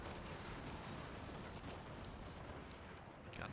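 Artillery batteries firing in Total War Warhammer 2, a dense, continuous rumble of distant cannon fire and battle noise throughout, with no voices.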